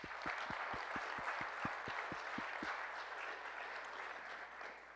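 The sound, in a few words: applause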